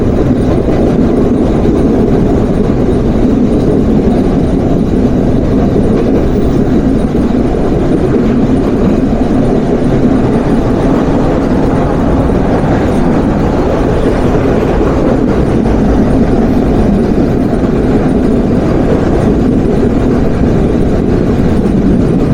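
Chitra Express train running through Jamtoil railway junction, a loud, steady rumble of wheels and carriages with faint clickety-clack, continuous and close for the whole stretch, no voices.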